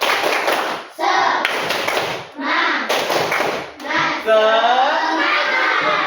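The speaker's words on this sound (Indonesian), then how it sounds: "Oke, tepuk semangat." Children in a classroom lesson perform a rhythmic spirit clap, bursts of patterned clapping and hand taps in short phrases separated by brief pauses, with children's voices chanting along and a final cheer.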